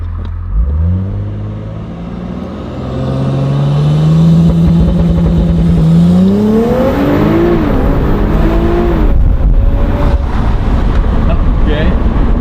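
An Audi S4 upgraded with Pure 750 turbos launches hard under launch control, the engine note climbing from a low growl into a loud, rising roar with turbo whine as gears shift, close and continuous from inside the car.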